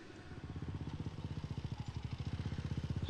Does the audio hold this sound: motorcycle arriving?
yes